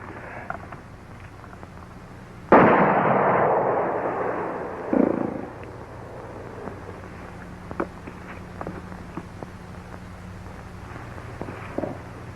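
A single sharp gunshot from a 1942 western film rings out loudly and decays over a couple of seconds, followed by a smaller second report and faint scattered clicks against quiet room tone.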